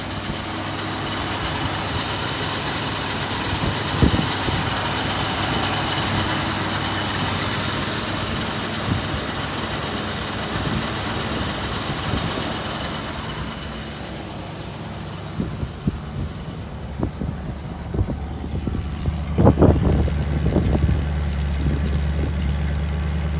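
A 1965 Ford Mustang convertible engine runs at a steady low idle, a continuous deep rumble that shifts and thins later as the car moves, with a few thumps and knocks near the end.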